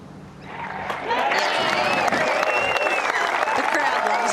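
A golf crowd applauds a birdie putt at a tournament round, with clapping swelling after a quiet second and holding steady and loud. A commentator talks over it.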